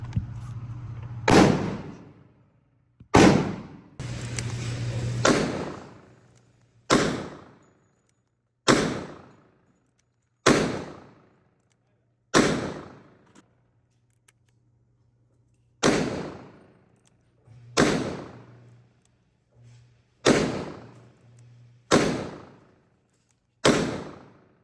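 A Taurus Judge revolver fires 230 grain Ammo Inc rounds at a range. About thirteen loud, sharp shots ring out one at a time, each a second or two apart, and each blast fades quickly. A low hum sits under the first few shots.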